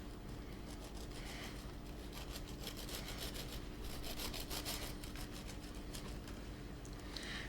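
Knife sawing through the soft top of a sponge cake for a Battenberg, producing a soft, continuous rasping rub with faint back-and-forth strokes at low volume.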